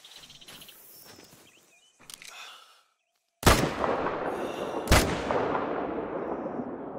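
Two sharp, loud hunting-rifle shots ring out in The Hunter: Call of the Wild, each with a long echoing tail, after quieter rustling footsteps and insect chirps in an outdoor game setting.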